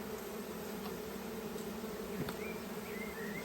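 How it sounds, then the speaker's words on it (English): A steady, dense buzzing of many honey bees at a hive, continuous and close, with a few brief higher whines drifting past. "encourage all these bees that are at the side to move round to the entrance"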